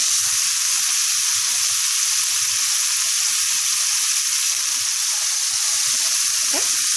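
Shrimp and scallops fry in a pan with a steady, loud, continuous sizzle and hiss that fills the whole stretch, with faint low clinks underneath and no talking.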